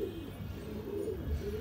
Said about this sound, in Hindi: अब अगला कबूतर जो मैं आपको ये दिखा रहा हूँ, ये दिखा रहा हूँ गुलाबी पटैत